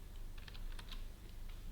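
Typing on a computer keyboard while writing HTML code for a password visibility toggle, a quick run of light clicks and taps over a steady low hum, close and fairly quiet.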